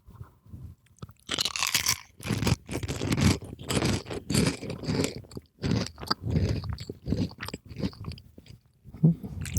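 Close, loud crunching and chewing of ridged, wavy, orange-tinted potato chips, with repeated crisp bites and scraping chews coming in irregular bursts and no talking.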